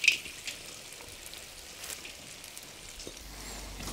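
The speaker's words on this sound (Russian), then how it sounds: "теперь самое время насыпать красную морковь. Она пожарится довольно быстро." Red carrots frying in oil in a hot kazan for Fergana plov, a faint, steady crackling sizzle with scattered small pops and no talk.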